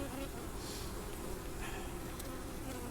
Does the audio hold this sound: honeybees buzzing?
yes